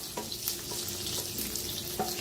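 Small green chillies hit a hot pan with a soft, steady sizzle and faint crackles and pops, a quiet frying sound with no talking.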